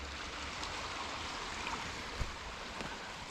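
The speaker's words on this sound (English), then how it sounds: "The water's actually coming through that hole, which is crazy to think about." Water streams steadily through a hole in an old, abandoned stone wall in Scotland, a continuous rushing wash with no talking.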